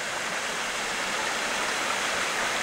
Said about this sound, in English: When you see this waterfall,